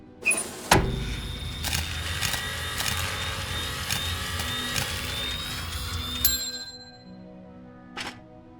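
A bucket is cut in a circular zigzag pattern in the cartoon adventure game Elroy and the Aliens: a steady buzzing, grinding cut with a gradually rising tone runs for about six seconds, then stops, followed by a brief click.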